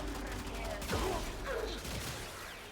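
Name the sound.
gunshots from a weapon in the video game Warframe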